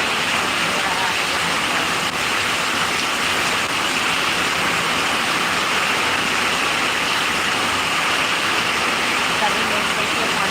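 Heavy rain pours down in Rishra near Kolkata, a dense, unbroken roar of water hitting surfaces, loud and close throughout with no let-up.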